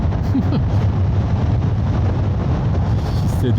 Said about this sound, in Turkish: bu kadar rüzgar sesinde şu an kafamı zor tutuyorum.